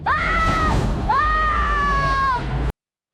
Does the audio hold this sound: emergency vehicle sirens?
no